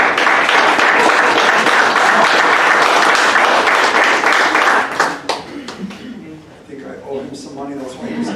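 Loud, dense audience applause at a police district crime and safety community meeting, steady clapping for about five seconds before thinning into scattered claps and talk.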